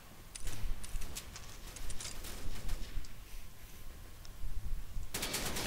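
A FAMAS rifle firing in the shooter game Combat Arms: repeated short bursts of rapid gunfire with brief gaps between them, ending in a sharp, loud burst.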